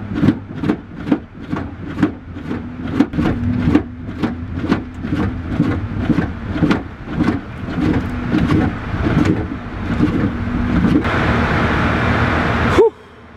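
Nissan 350Z fitted with a hydraulic handbrake driven on an ice track, its engine droning steadily with a rapid series of sharp rhythmic bursts and surges throughout, loud and close, cutting off abruptly near the end.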